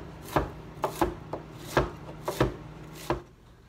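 A knife slices through cauliflower on a cutting board in a quick uneven series of about eight sharp, close chops with short pauses between them, with no talking.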